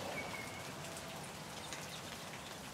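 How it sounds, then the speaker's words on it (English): Light drizzle falls outdoors on a damp winter morning by a railway line, a steady soft patter of raindrops on surfaces filling the whole stretch at an even, moderate level with no voices. "Light drizzle falling,"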